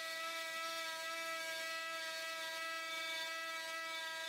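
A Dremel rotary tool cutting a step into MDF for a DIY speaker cabinet, a steady high-pitched whine that holds without a break for several seconds, close and even in level, with no talking over it.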